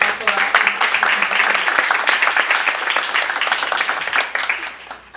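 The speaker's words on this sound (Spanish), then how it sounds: "les pido un fuerte aplauso para dar paso a su" An audience at a cultural heritage seminar applauds to welcome the next speaker, steady dense clapping at a fairly loud level that tapers slightly near the end.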